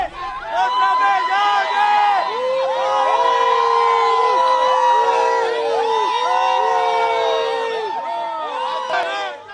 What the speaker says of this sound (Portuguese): foi alvo de xingamentos e de vaias por parte dos moradores